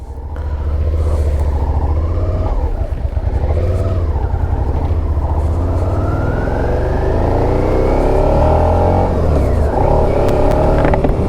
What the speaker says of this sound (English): the bike is basically starting with no need to twist the throttle